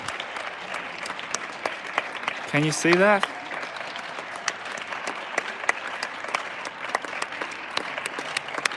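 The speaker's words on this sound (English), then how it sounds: "everyone's cheering for the health workers" Residents on Paris balconies clap and cheer for health workers at the nightly 8 o'clock salute, a distant sustained applause with whoops echoing along an empty street while someone talks nearby.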